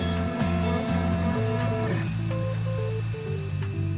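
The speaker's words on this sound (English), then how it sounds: "With the aid of a 3D printer, I was able to go from a concept to a very real object" 3D printer printing a prototype, steady stepper-motor whine with shifting tonal pitches as the print head moves, continuous and close, with no talk.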